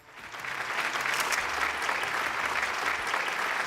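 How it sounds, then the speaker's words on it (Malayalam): Studio audience applause on a television game show, a steady wash of many hands clapping that swells in quickly and stays loud and even throughout. "കൈയടിക്ക്"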